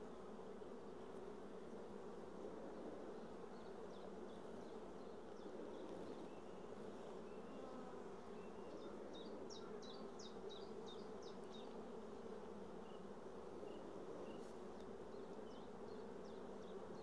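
Honeybees buzzing in a dense, steady drone from a freshly opened hive colony, close and continuous throughout, with faint light handling noises above the hum.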